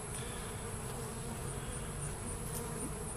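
A swarm of honey bees hums inside a top bar hive, a continuous, even buzzing drone with faint higher whines, close and unchanging, with no voices over it.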